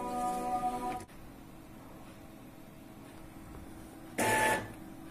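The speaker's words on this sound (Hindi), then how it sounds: "प्रिंटर की हेड क्लीनिंग हो रही है" Epson printer running a print head cleaning cycle: a whirring mechanical drone that cuts off, a low steady hum, then a second brief loud whirring burst, close and without talking.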